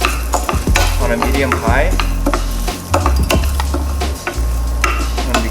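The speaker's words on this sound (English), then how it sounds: "you just wanna give it a little stir until it's brown and gold" Rice sizzles as it toasts in olive oil over medium-high heat for a sundried tomato and Boursin risotto, with a spoon stirring and scraping the pan in repeated close strokes under a steady fry.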